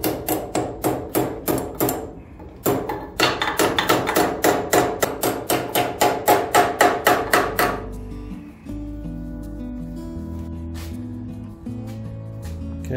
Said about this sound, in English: So I just need to tap that back into place and get back on track.